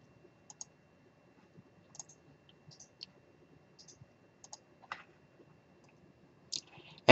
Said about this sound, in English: Then I'm going to click Add and then Submit.